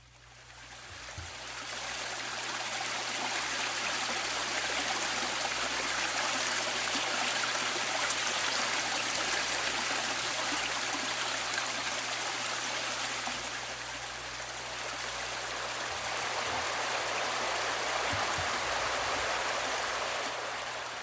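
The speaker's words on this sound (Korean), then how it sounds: "물소리 한번 들어보면 좋겠는데 한번 옥류천 소리 한번 들으러 가볼까요" The Okryucheon, a clean stream running down from Magolsan in Dong-gu, Ulsan, rushes in a steady, dense wash of flowing water, close and continuous, easing slightly midway before swelling again, with no voices.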